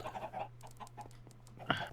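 Chickens in Minecraft cluck in short, soft, scattered bursts, with a sharper squawk near the end, over a low steady hum and no talking.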